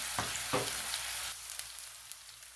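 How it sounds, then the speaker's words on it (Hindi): Chicken frying in a pot with ginger and garlic paste for an Afghani chicken handi, a muted steady sizzle with a couple of stirring scrapes early on, close and without speech. "फिर मैं इसमें ये चिकन फ्राई करती हूँ"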